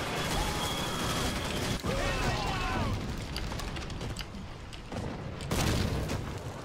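Tank blowing up in a modded Call of Duty 2 video game: a dense, rumbling explosion roar with sharp blasts near the start and midway, heavy and close amid chaotic battle noise.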